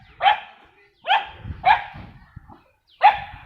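A puppy lets out four sharp, close barks at uneven intervals, with a soft rustle and shuffling between them.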